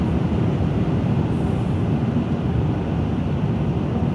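Cabin of a V12 BMW 7 Series cruising at high speed: a steady, low engine drone blended with road and wind rumble, constant and unbroken, with no voices.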